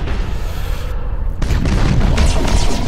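Torpedoes are fired at enemy ships in the space battle game Battlefleet Gothic Armada as loud, booming launch blasts in quick succession, building into a heavy rumbling barrage.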